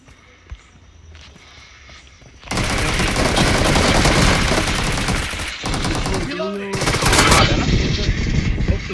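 Gunfire in a team deathmatch video game: loud, sustained rapid automatic bursts begin after a quiet start and continue with brief breaks, with synthetic game effects mixed in.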